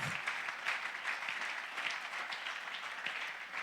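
A church congregation at a French-language Sunday service claps together in sustained, even applause, moderately loud and filling the room throughout, with no voices standing out.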